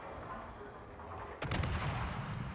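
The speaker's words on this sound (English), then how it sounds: "Papa putting guns on the Cossack again" Naval ship guns fire in a warship battle video game, a sudden sharp blast breaking through a quiet background and trailing off in a rumbling boom.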